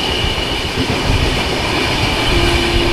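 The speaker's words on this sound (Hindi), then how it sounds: "अच्छा ओवरटेक हुआ है यहाँ पे कोटा इटावा एक्सप्रेस का।" Kota Etawah Express, an Indian Railways train hauled by a WAG5 locomotive, rumbles steadily past at close range in an overtake, a loud continuous roar of wheels and carriages with faint clatter throughout.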